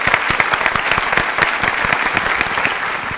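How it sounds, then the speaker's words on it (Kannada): Loud, sustained applause from a studio audience at a Kannada singing competition, greeting two contestants chosen from Chamarajanagar district; dense steady clapping with sharper individual claps standing out throughout. "ಮತ್ತೊಮ್ಮೆ ಜೋರು ಚಪ್ಪಾಳೆ"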